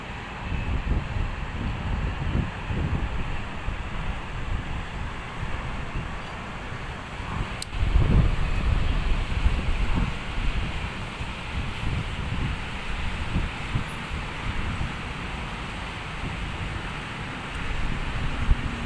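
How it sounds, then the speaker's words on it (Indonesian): Very strong wind gusting in Tanjung Duren, West Jakarta, roaring and buffeting the microphone for a long stretch, with a louder surge midway and rustling throughout. "anginnya super duper kencang"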